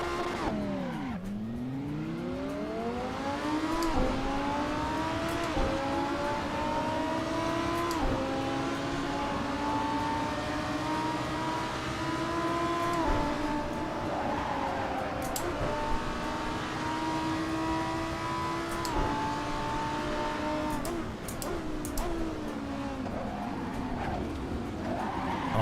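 A car in the Assetto Corsa racing game revs hard, its engine note rising and falling through gear changes, with tires squealing and skidding throughout, loud and continuous for the full run.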